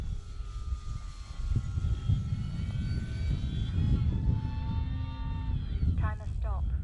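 A small propeller engine on a model airplane drones steadily overhead, its pitch shifting as it passes, while a voice talks over it.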